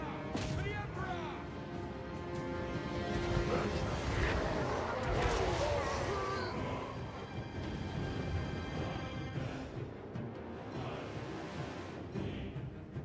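Mortar artillery booms in a Warhammer battle game amid continuous battlefield din, with repeated heavy thuds and crashes under shouting voices and a musical score.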